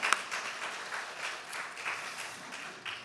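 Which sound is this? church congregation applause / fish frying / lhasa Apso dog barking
church congregation applause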